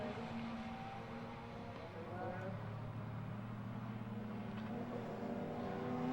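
Classic pre-1983 Jaguar touring car racing at Donington Park, a steady engine drone with other race cars circuiting, heard under continuous commentary.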